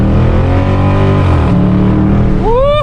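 Dodge Charger Scat Pack under hard acceleration, a loud engine and exhaust drone that climbs with revs, dips at a gear change, then a sharp upward whine near the end, recorded from inside the car.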